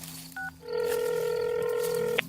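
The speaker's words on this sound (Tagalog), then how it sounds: "Tatawag na muna ako sa lolo ko." A telephone is dialled to call a grandfather, with a short keypad beep followed by a steady, continuous ringing tone that holds for about two seconds and ends with a brief click.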